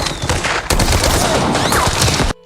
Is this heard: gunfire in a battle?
yes